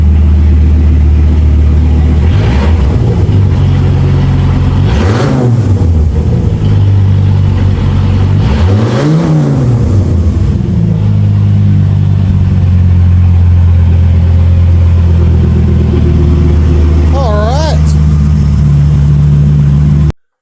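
An old Dodge truck engine that had sat for years starts and runs, a loud close idle with several rising and falling revs, the engine note swelling and settling before a final quick blip.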